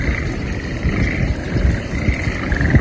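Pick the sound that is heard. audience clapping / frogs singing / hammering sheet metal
frogs singing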